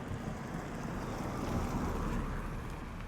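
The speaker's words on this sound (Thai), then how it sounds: "ตอนนี้ฝนก็จะเริ่มตกแล้วนะครับ" Rain beginning to fall at the entrance of a forest temple in rural Khon Kaen, Thailand, a steady broadband hiss of drops with a low rumble underneath, continuous and fairly close throughout.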